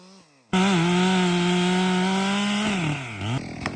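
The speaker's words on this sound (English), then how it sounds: "Let's move on to the felling cut" A chainsaw roars at full throttle through the felling cut of a tree trunk after a quiet start, holding a steady loud whine before the pitch sags and the engine drops back near the end.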